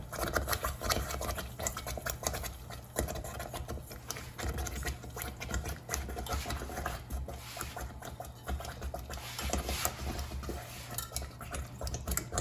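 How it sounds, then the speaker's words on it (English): A whisk stirs flour, butter and tomatoes in a pan for tomato gravy, giving a continuous, fairly quiet scraping and clinking patter with light sizzling underneath and no voices. "So use a whisk to make sure you incorporate the flour and butter."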